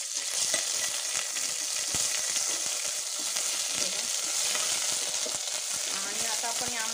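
Ginger garlic paste sputters in hot oil in a pan, giving a continuous bright sizzle with rapid crackling pops, moderately close and without talk.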